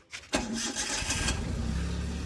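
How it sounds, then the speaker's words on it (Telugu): A used power-steering vehicle's engine cranks briefly, catches and settles into a steady, smooth idle close by, with no talk over it. "వెహికల్ ఒకసారి స్టార్ట్ చేసి కూడా చూపిస్తుంది."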